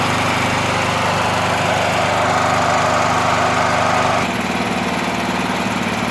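A backup home generator engine runs steadily and loud with its fuel shut off, its drone shifting lower and rougher partway through as the carburetor bowl begins to run dry.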